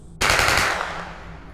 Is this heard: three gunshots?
yes